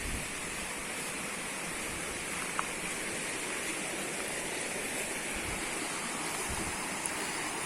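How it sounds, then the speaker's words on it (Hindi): A mountain stream flows down from the hills near a Garo village in Bongaigaon, Assam, making a steady, even rush of water that holds constant throughout with no voices. "ये पानी पहाड़ से आ रहा है ना"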